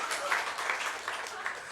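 Faint, steady applause from a congregation at a church Easter retreat, a soft spread of many hands clapping that continues without a break for its whole short length.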